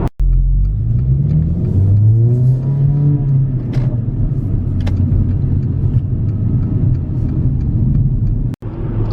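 Loud, steady cabin drone of a Mercedes GLA 45 AMG cruising at about 60 mph, a low engine and road rumble with faint tonal hum, continuous and close, briefly cut by a couple of sharp clicks.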